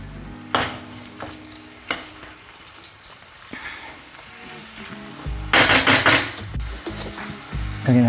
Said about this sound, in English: here just a little bit of onion frying, and I put the chicken